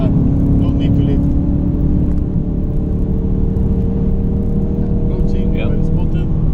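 A Ford Focus RS engine held at full throttle in fifth gear at Spa-Francorchamps drones steadily and loudly from inside the car, with a constant low rumble and road roar throughout.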